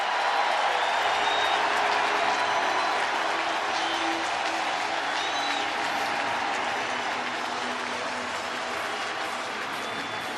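A St. Louis baseball stadium crowd roars and applauds after a home run, a dense and sustained wash of cheering that fades slowly, with a commentator talking faintly underneath.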